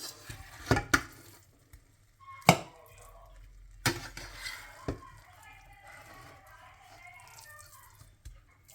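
Carrot halwa is scooped out of a cooking pan with a spoon, giving several loud metallic scrapes and knocks at irregular intervals. Soft scraping and quiet talk fill the gaps between them.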